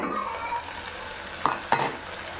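Potatoes and mixed vegetables fry in a pan for aloo veg biryani, a close steady sizzle with two quick stirring scrapes.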